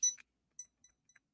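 A kitchen-style timer gives a few short, high electronic beeps while being set, spaced irregularly with silence between them, close and clear.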